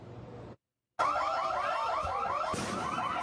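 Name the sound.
store alarm wailing during fight at Bell Fries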